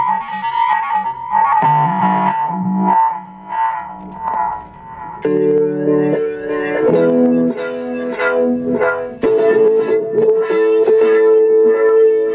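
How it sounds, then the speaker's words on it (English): Electric guitar through the sweep echo effect of a Line 6 Floor Pod Plus: sustained distorted notes and chords with repeating, swirling echoes trailing behind each phrase, loud and continuous. "Sweep echo."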